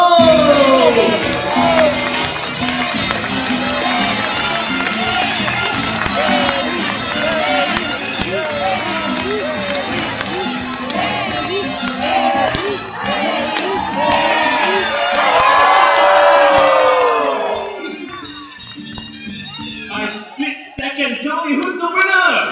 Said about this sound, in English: Everybody starts cheering, okay?